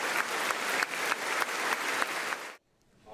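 Members of the US Congress give a standing ovation during a South Korean presidential address, loud sustained clapping that cuts off abruptly into near silence.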